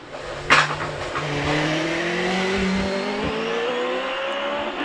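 Hillclimb race car with a 4-litre Judd engine in the back at a British championship event at Prescott, its engine rising through the gears in a sustained, climbing howl, fairly loud, at a moderate distance.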